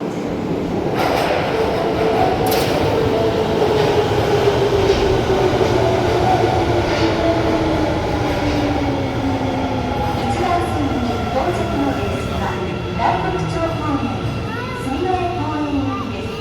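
Train at a station in Osaka, heard close and loud: rumbling wheels and rising, falling motor tones as it moves along the platform, with a brief clatter, under an announcement and voices.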